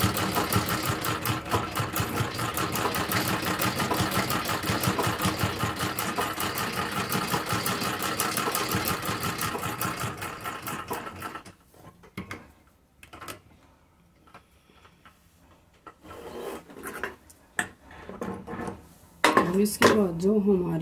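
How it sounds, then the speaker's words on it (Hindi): A sewing machine stitches along a folded fabric edge in a fast, steady mechanical run that stops abruptly partway through, leaving quiet handling noises before a brief restart. "जो हमने पहले सिलाई लगा रखी थी उसी के ऊपर से हम एक और सिलाई लगाएंगे।"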